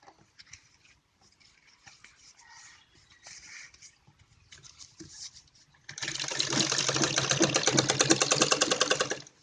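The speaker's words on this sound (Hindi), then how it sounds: "ऐसे मैं पूरे कपड़े में सिलाई लगा के इसे तैयार कर लूंगी।" A sewing machine stitches net cloth for a Patiala salwar. Quiet handling sounds come first, then a loud, steady, rapid mechanical whirr runs continuously through the final few seconds.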